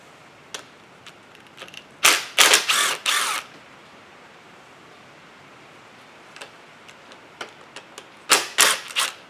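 Hand tools come off the front plate of a Johnson 70hp triple outboard motor: two loud bursts of rapid ratchet clicking, close by, separated by quieter scattered taps and metallic clicks.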